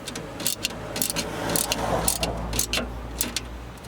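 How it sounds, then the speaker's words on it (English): A 10mm socket and Allen key tightening a MOLLE panel clamp on a Toyota RAV4, Land Cruiser or 4Runner, heard as repeated sharp ratcheting clicks in quick bursts over a steady background rumble. "The key will go on the bottom, and the 10mm socket will go on top. Then you'll continue tightening"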